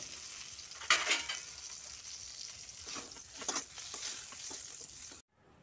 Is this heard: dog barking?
no